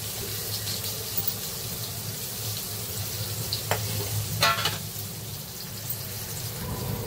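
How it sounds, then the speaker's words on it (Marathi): Fish frying in a pan for a Malvani-style fish thali gives a steady close sizzle with a couple of brief sharper crackles or clinks midway, with no one speaking. "असं मस्त आता मी फ्राय करून घेते"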